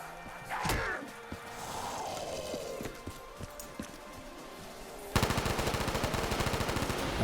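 Gunfire in Call of Duty custom zombies on the Killhouse map as players shoot at a ladder: scattered clanks and single shots, then a loud, rapid automatic burst that runs to the end.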